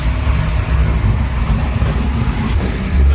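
A 1961 Chevrolet Bel Air with a stroked 413 cubic inch V8 runs loud and close, a steady deep engine rumble with slight throttle swells throughout, no voices.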